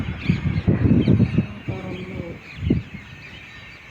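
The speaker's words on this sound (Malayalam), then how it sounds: "പറവകൾ." Birds calling outdoors in rural Tamil Nadu, with crow-like caws standing out in short bursts against a busy background of chirps and low ambient noise.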